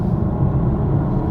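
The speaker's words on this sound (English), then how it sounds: "normal EV noises" Steady low rumbling road and cabin noise inside a BMW i4 M50 electric car in comfort mode, a smooth continuous hum with no distinct engine note and no voices.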